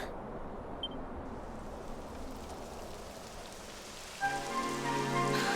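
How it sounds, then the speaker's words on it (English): Steady rain in the video game Dragon Quest XI patters on surfaces with a dense hiss throughout, joined near the end by a soft tonal musical layer. "It would have to go and start raining, wouldn't it?"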